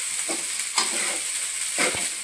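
Stirring white rice in a hot pan over a steady sizzle, with three soft scraping strokes of a spoon close by.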